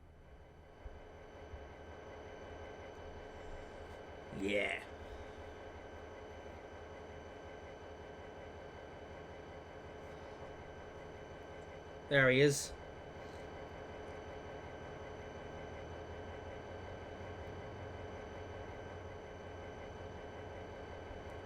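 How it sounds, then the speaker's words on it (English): A freight train pulled by a default locomotive arriving in Trainz Simulator 2 on the Razorback route during a thunderstorm: a steady low engine drone throughout, broken by two short louder bursts, with a brief remark spoken once. "It's a freight train."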